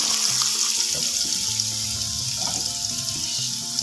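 Eggs frying in a little oil while cooking sambal goreng, a close, continuous sizzle and crackle with scraping and clinking of a utensil against the pan.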